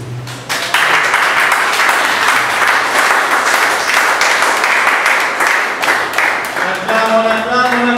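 A church congregation bursts into loud, sustained applause that starts sharply and keeps up a dense, steady clapping throughout, with some voices mixed in toward the end.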